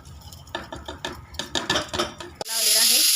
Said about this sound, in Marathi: त्यामध्ये टाकून घ्यायचं हे तांदूळ.